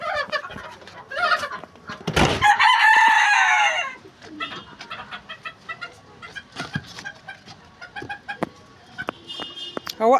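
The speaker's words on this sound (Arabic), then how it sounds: "تعالوا ناكل الفراخ الصغيره" Chickens cluck and a rooster crows loudly near a small farmyard flock that includes young chicks, with one long crow standing out early, then scattered clucks and chirps continuing throughout.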